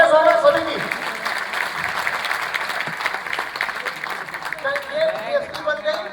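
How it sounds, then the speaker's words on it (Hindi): At a ceremony honoring selected civil service exam candidates, an audience claps steadily, with voices mixed in over the applause. "तालियां जोरदार सभी की"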